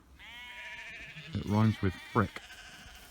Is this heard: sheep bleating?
yes